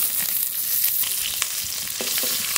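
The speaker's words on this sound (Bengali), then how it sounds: "এবার ফোড়ন করে নেব শাক ভাজার জন্য।" Whole radhuni seeds, whole garlic and whole green chillies sizzle in hot oil as a tempering for frying greens, a steady close crackling hiss with small pops throughout.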